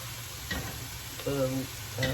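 Leeks added a handful at a time to a hot pan, giving soft bursts of sizzling and stirring that come in three short pulses, with a voice talking faintly between them.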